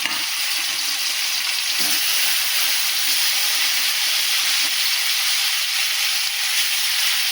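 Masala-stuffed green chillies frying in hot oil with mustard seeds and coriander, a steady, dense sizzle that hisses on continuously at close range, with faint stirring bumps and no talk.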